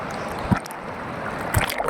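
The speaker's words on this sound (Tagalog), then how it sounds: "Yan ay alon." Ocean waves at Boracay beach make a steady wash of surf and splashing water close by, with two soft thumps, no voices.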